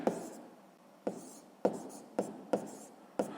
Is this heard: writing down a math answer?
yes